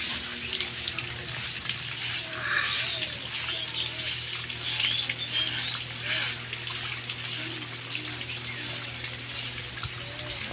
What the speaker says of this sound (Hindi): पानी अभी भी बरस रहा है